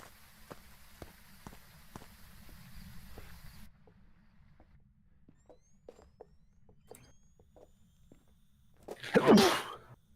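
A single loud, close human sneeze bursts out near the end, following a stretch of faint ticking and a soft electrical hum that cuts out partway, with no talk.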